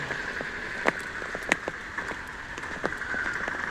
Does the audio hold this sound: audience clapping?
no